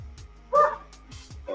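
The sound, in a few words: dog barking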